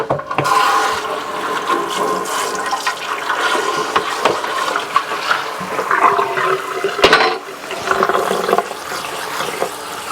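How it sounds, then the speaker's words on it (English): Running water from a kitchen tap pours steadily over brined pinto beans being rinsed, a continuous splashing rush with occasional clunks of the beans and container, close and fairly loud. "these beans have been brining overnight. I'll go ahead and rinse them."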